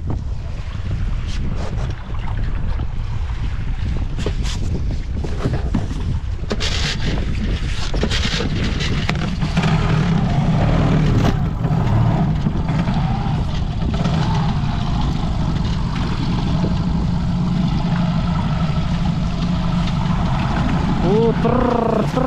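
An outboard motor drones steadily on a boat in the Danube Delta near Maliuc on a stormy day with big waves, while heavy wind buffets the microphone throughout.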